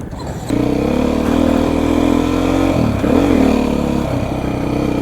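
Beta 480 four-stroke motorcycle engine running close by, a steady loud throttled drone with a brief dip and rev swell midway, idling and pulling in turns.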